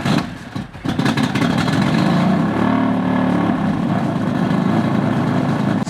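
A fire-damaged BMW F80 M3 engine cranks briefly and catches, then settles into a loud, rough, uneven idle that holds steady close by.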